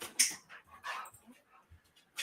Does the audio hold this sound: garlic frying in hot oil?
no